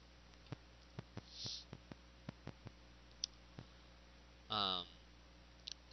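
Computer mouse clicks sound as a run of sharp, faint ticks in a quiet room, spread irregularly over several seconds, with a brief rustle partway through and a short burst of noise near the end.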